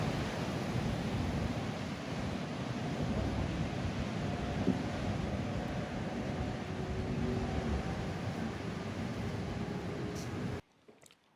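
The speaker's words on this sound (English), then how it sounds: "It's literally a hurricane." Strong, hurricane-like wind blows outdoors on a UK horse-shopping visit, a dense constant roar that holds steady for about ten seconds before abruptly cutting to near silence.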